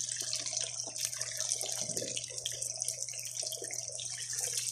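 Hot water from a tap runs and pours steadily into a container, a continuous close splashing rush with a low hum beneath it.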